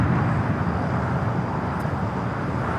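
Turkish Airlines airliner taxiing onto taxiway Lima at LAX, a steady broadband jet engine roar that holds even and fairly loud throughout, with no other distinct events.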